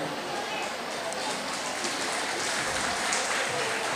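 An audience applauds at the 30th annual day of Vinayaka Vidya Bhavan nursery and primary school. The clapping is dense and steady, a hiss-like wash that holds an even level for the whole stretch, with faint voices mixed in.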